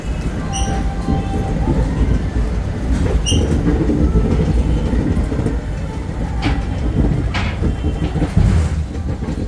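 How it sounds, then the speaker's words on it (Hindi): The 17064 Ajanta Express pulls out of a station at Kacheguda, Hyderabad, with a loud, heavy rumble of rolling wheels and carriages, rhythmic clacking over rail joints and faint high squeals. "तो वो था हमारी ट्रेन का डिपार्चर, जो कि थोड़ा सा लेट था"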